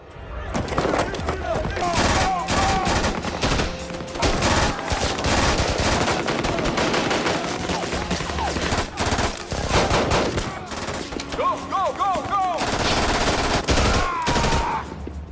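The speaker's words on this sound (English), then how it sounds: "the special forces start firing on the Taliban." Heavy gunfire in a war film as special forces open fire on Taliban fighters in the desert: dense, continuous bursts of automatic and single shots throughout, loud and close, with shouted voices mixed into the barrage.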